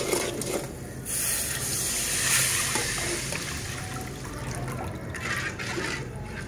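Tamarind water poured into a spice masala in a pot while making chana chaat, a steady splashing liquid pour running throughout, close and moderately loud with no talk.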